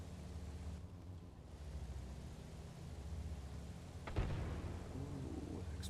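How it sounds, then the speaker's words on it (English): A distant explosion in the military shooter game Arma Reforger, a sudden broadband burst partway through, rising over a steady rumble of ambient game noise and fading with a short rumbling tail. "Ooh, explosion."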